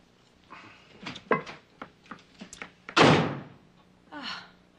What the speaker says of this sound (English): Why does he always have to slam the door?